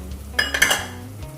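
Ground spices tipped into minced qeema frying in a pan, giving a few close metallic clinks and scrapes of a spoon against the pan over a low steady hum.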